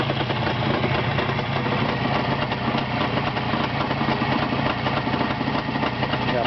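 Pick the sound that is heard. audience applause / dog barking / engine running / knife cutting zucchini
engine running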